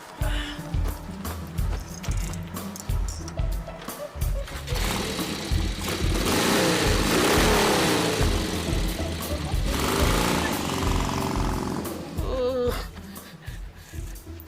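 A loud, revving motor engine roars and swells for several seconds, rising and falling in pitch, with some rattling bursts around it.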